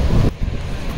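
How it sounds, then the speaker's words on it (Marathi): Sea waves surge at Kasheli beach on the Konkan coast during heavy rain, a loud close wash of surf mixed with wind buffeting the microphone, briefly dropping off then rumbling on. "तिकडे लाटा बघा"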